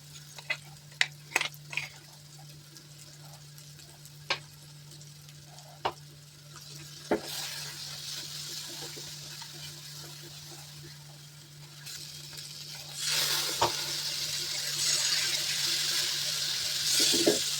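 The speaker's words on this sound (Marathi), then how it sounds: "आता टाकूया आपण वाटण कांदा खोबऱ्याचं. ते पण थोडंसं तेलावर परतून घेऊया." Onion-coconut paste fries in oil with a soft, continuous sizzle, broken early by sharp clinks of a spoon against the pan and swelling louder as stirring continues later; a voice speaks intermittently.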